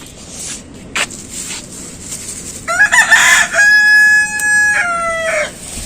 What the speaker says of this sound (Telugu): నా ప్రతి వీడియోలో కోడి కూత లేకుండా వీడియో ఉండదు అనుకుంటాను